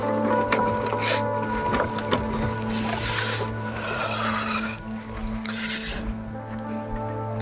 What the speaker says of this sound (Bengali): এই যে আমাদের নৌকা চলে এসছে এখন, সবাই দেখো লঞ্চে উঠে পড়ছে।